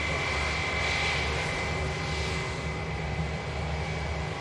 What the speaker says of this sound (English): British Airways A319. Look at the size of them IE engines on board.